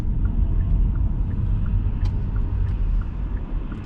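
A car drives on a town road during a Bradford driving-test route. The engine rumbles low and steady from inside the cabin, with faint road noise and no talking.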